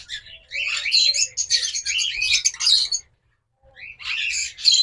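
A pair of sea green lovebirds gives bright, shrill chirps and squawks in dense rapid bursts, close by. A short silence falls partway through before the chattering resumes.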